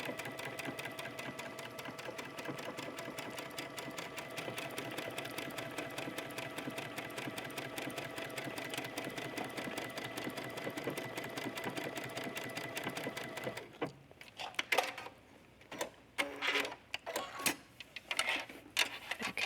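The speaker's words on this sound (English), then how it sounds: "go ahead and stitch that buttonhole" A sewing machine stitches a buttonhole on jogger pants with a steady, fast mechanical whir for most of the stretch, then breaks into short stop-and-start bursts and clicks near the end.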